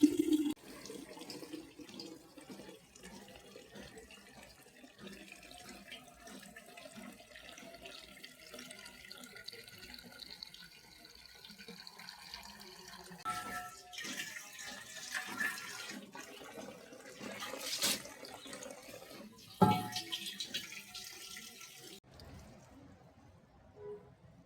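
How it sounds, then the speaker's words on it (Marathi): Water runs from a tap into scrubbed metal household water pots as they are filled, a faint, uneven splashing that rises and falls over a long stretch, with occasional clanks and quiet talk in the background. "आणि पाण्याचे हंडे घासून घेतले आणि ते पाणी भरून घेते"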